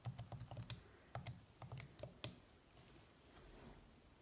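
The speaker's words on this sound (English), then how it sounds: "Typing this all into my calculator" Rapid, quiet clicking of keys being pressed on a calculator, a few quick bursts of taps followed by a pause and a couple of final presses, close and faint.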